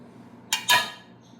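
A lid is closed on a jar of green chilli pickle with two quick, close clinks, the second a touch louder, then a brief fading ring in an otherwise quiet kitchen.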